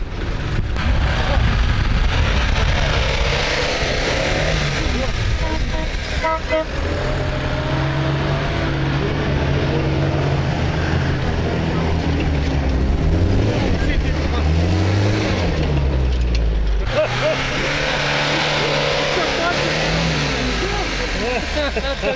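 A 4x4 off-road vehicle, a Patriot, drives on sand, its engine droning loudly and continuously with rising and falling revs as the wheels dig in, while people talk inside.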